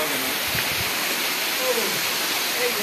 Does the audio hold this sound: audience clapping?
no